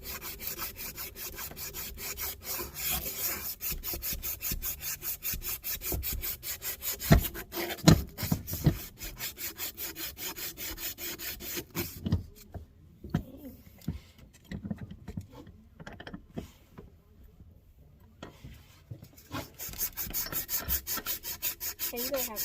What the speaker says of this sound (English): Let me get sandpaper.